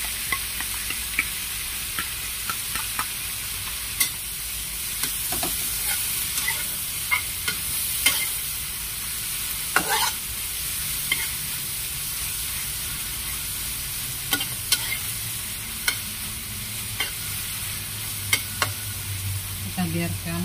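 Clam meat stir-fries with oyster sauce and green beans in a hot pan, a steady loud sizzle with intermittent scrapes and clinks of a spatula stirring.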